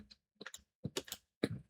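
Clusters of computer keyboard keystrokes tap in short irregular bursts, close and quiet, separated by brief pauses, with no voice over them.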